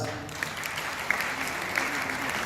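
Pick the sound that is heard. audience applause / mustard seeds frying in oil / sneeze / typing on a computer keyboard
audience applause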